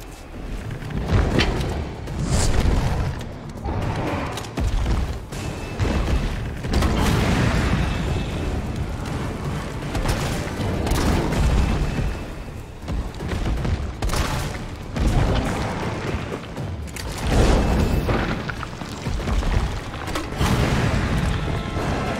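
Dense, continuous bursts of booming gunfire and explosions from flame rounds fired in Resident Evil 3 Remake during the Project Nemesis boss fight, loud and sustained throughout with no pauses.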